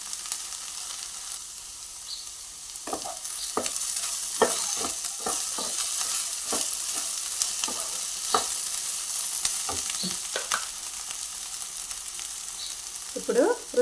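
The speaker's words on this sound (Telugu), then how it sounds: "ఇట్లనే కలుపుతూ ఫ్రై చేయాలండి." Okra curry fries in a pan under a constant sizzle, punctuated by repeated sharp scrapes and clacks of a spoon stirring, close and without talk.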